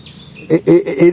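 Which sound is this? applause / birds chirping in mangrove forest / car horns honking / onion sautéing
birds chirping in mangrove forest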